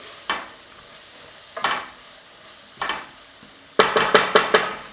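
Herb bread stuffing with celery, onion and garlic tossed in a hot pan: soft sizzle punctuated by sharp scraping stirs, three spaced strokes then a quick run of four, close and alone.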